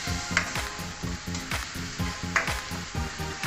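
French beans stir-fried in a sizzling pan, with rhythmic spatula scrapes and tosses repeating about three times a second over a steady frying hiss, close and fairly loud.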